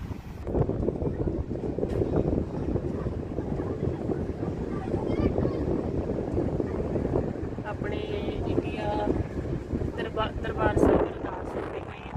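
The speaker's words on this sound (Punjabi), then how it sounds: "ਹਵਾ ਵੀ ਬਹੁਤ ਜ਼ਿਆਦਾ ਚੱਲਦੀ ਪਈ ਹੈ" Strong wind blows outdoors on a cold night, buffeting the microphone with a constant rough roar, while voices are heard faintly beneath it.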